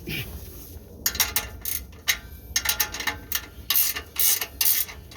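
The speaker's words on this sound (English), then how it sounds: "Ratchet wrenches are nice." Ratchet wrench clicks in rapid bursts while fitting the exhaust and muffler on a Nissan Frontier pickup, close and fairly loud, several short runs of clicking with brief pauses between strokes.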